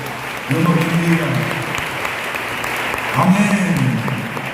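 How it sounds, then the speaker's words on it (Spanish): A church congregation claps during a Spanish-language evening service, a sustained wash of applause with voices calling out over it twice. "Démosle aplauso al Señor"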